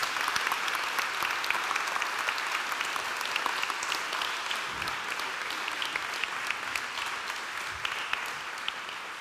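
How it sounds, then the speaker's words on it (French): Sustained audience applause in a museum conference hall for a sculptor, a dense, even patter of many hands that runs steadily at moderate level and eases slightly toward the end. "je vous propose qu'on fasse un tonnerre d'applaudissements à Michel Bassompierre qui vient de finir ça."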